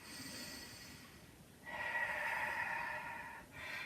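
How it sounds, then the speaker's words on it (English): A slow, deep inhalation during a quiet yoga flow, faint and close, swelling midway and easing off near the end. "Breathe that in."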